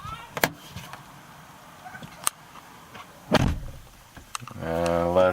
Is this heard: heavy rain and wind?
no